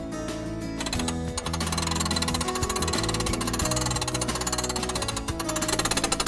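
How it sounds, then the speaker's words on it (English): A hand crank turns to raise the roof of a pop-up camping trailer, giving a loud, steady mechanical rattling and grinding that runs without a break for about six seconds. "So the next step is to crank it up."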